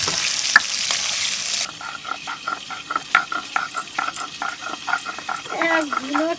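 Big fish pieces frying in ground spice paste in a pan, an intense sizzle that settles into rhythmic stirring and scraping, with speech heard over the cooking.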